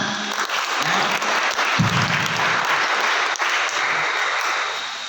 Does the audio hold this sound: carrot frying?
no